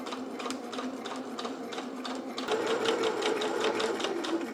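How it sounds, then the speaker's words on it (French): A sewing machine stitching fabric with long basting stitches along a line, a steady close whirring hum with rapid needle clatter that speeds up and grows louder partway through. "Je vais venir coudre à grands points sur cette ligne"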